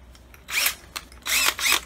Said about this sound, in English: So I'm going to go ahead and drill the holes for the air